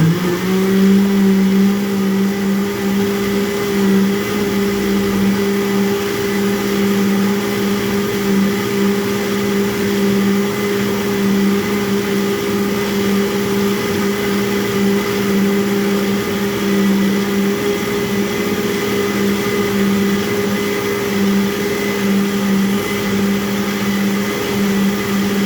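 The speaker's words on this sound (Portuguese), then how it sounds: "eu vou bater só o leite com inhame" A kitchen blender whirs steadily at one pitch, loud and unbroken, for about 25 seconds while blending milk with yam.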